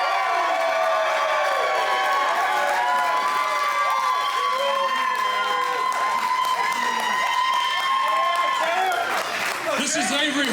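Hometown crowd at a WrestleARTS wrestling show cheers and applauds steadily for wrestler Avery Hurts after his first championship win, a dense, loud wash of clapping and shouts with whoops and a brief surge near the end.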